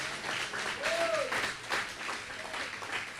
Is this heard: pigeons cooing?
no